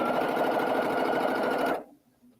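A sewing machine at a quilting workstation runs a steady stitching line through quilting fabric for a couple of seconds, then stops abruptly, leaving near silence.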